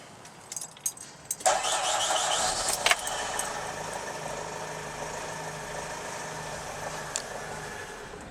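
A Renault Trafic diesel van that has run out of diesel cranks over and over with a steady starter churn, close and fairly loud, after a few clicks and key rattles at the start; no one speaks.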